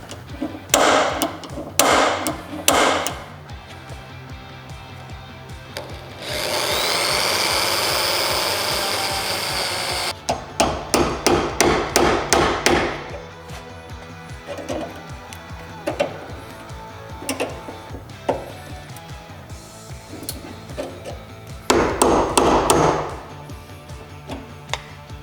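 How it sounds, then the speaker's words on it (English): Workshop sounds: rapid hammering and tapping bursts alternate with a sustained whirring drill grinding through metal, drilling out spot welds on a Nissan car panel, then more banging and a second drill run. "back to the hole punch and spot weld drilling"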